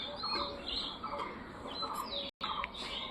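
Pigeons in a nest calling with soft chirps and faint low coos, close by and repeated, over a quiet background.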